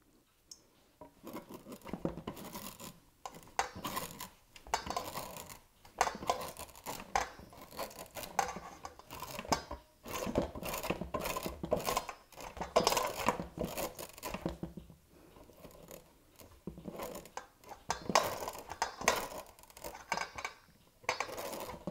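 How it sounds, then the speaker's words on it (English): Cold butter being grated over a bowl of flour, producing rapid, rhythmic scraping strokes in uneven bursts with brief pauses, close and fairly quiet. "But working as quickly as you can, grate that butter into your bowl."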